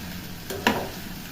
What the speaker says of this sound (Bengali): এই সব কিছু দেওয়ার পরে আবার খুন্তির সাহায্যে খুব ভালো করে নাড়িয়ে নিলাম